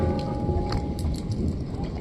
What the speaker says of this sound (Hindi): तो दोस्तों देख सकते हैं ओले ओले हो रहे बिल्कुल